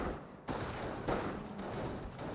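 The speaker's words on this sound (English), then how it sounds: "Incoming gunfire." Gunfire from the World War II strategy game Company of Heroes: rapid crackling bursts of rifle and machine-gun fire in a dense, continuous battle din, with sharp onsets near the start and middle.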